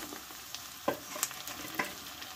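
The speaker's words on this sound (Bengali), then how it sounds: "দেখো পেঁয়াজটা কিন্তু ভাজা হয়ে গেছে।" Onions fry softly in a pan for chicken curry, a quiet steady sizzle broken by a few light clicks of stirring against the pan.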